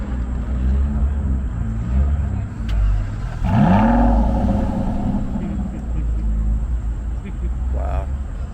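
A straight-piped Porsche 918 Spyder engine fires up with a rising rev and deep rumble that settles into a low idle, loud and close among car-show ambient noise.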